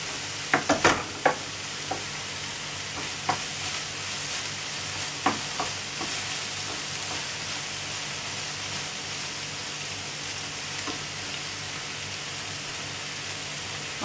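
Caramelized onions with a pinch of salt being stirred in a frying pan: a soft, continuous sizzle with a cluster of scraping spatula knocks early on, then scattered strokes fading into a quieter steady hiss.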